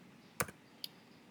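Computer keyboard typing during a Python coding tutorial: a couple of quick, faint key clicks, one sharp tap followed by a lighter one, in an otherwise quiet room.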